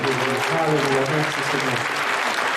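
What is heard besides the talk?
applause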